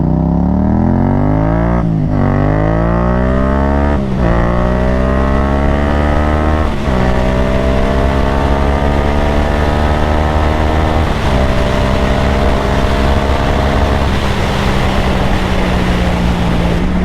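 A 2015 Yamaha FZ-07 motorcycle accelerating hard through several gears, its engine note climbing steadily and dropping at each of about five shifts, loud and close throughout with wind roar and no talk.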